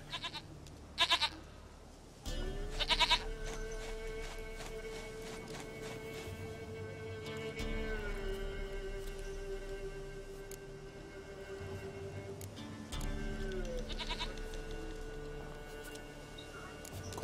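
A goat in The Witcher 3 gives a few short, wavering bleats at scattered moments over a steady in-game musical drone.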